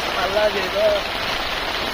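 Rain falls steadily on a village fish pond in Bangladesh, a dense, even patter close by with a couple of faint bird-like chirps over the wash.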